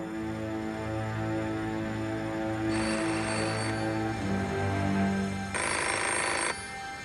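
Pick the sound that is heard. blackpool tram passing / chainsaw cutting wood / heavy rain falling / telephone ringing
telephone ringing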